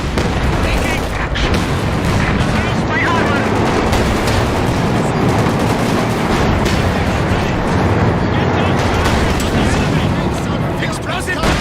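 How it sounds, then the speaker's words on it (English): Continuous dense battle din from a WWII-style strategy game, with overlapping gunfire, booms and artillery thuds filling the whole stretch at steady loudness, mixed with shouted voice lines. "Get up! We're taking fire!"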